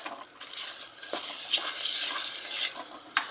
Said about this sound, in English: when you add your rice, this is where you want to add your water